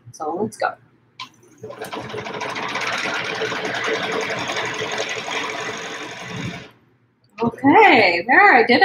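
A sewing machine stitches a quilt, running in one steady, close whirring burst of several seconds. Brief speech comes just before it, and someone talks again right after it stops.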